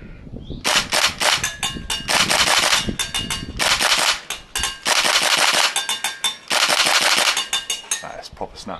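A Tokyo Marui AKM green gas airsoft rifle rattles through a full magazine in loud, close bursts of rapid snappy shots, with brief pauses between strings and a final tail-off.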